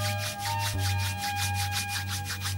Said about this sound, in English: Then you rub the palms.